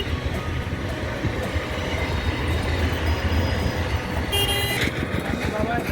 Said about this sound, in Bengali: খিরায়ের উপর দিয়ে এক্সপ্রেস ট্রেন যাচ্ছে